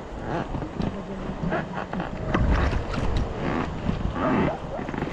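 Rubber boat ride on a river at a Norzagaray, Bulacan campsite, with a steady wash of rushing water and wind buffeting the microphone, broad and continuous, close up throughout.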